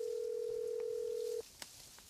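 A telephone gives one steady electronic tone as a mother calls, in a Tamil film scene; the tone holds clearly for over a second, then cuts off, leaving a quiet room with a faint click.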